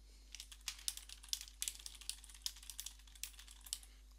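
Quiet, quick tapping on a computer keyboard as a comment is typed, irregular clusters of key clicks, close and alone.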